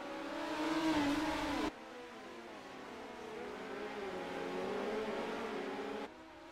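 Midget race cars roar away at the start of the final heat at the Chili Bowl, engines revving loud and close before settling into a steady, wavering drone as the pack circulates.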